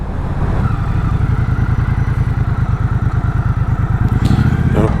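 A Triumph Bonneville Bobber motorcycle engine runs steadily with a rapid, throbbing pulse, loud and close, as if heard while riding, with no voices over it.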